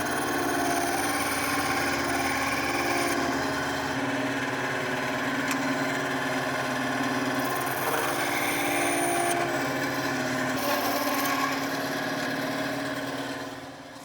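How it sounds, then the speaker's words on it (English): A bandsaw cuts EVA foam pieces for a World of Warcraft Doomhammer prop, its steady, loud motor whine and blade drone running without a break for the whole span before easing off at the very end. "I can head on over to the bandsaw and cut all these pieces out"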